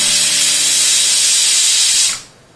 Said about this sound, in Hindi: अब 4 सीटियां आ चुकी हैं तो हम गैस बंद कर देंगे